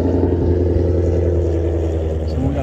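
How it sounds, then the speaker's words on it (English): A passing car with a holed, deliberately loud muffler revs at night in Rockport, Texas, its deep, steady engine rumble filling the whole stretch continuously. "Here comes someone revving."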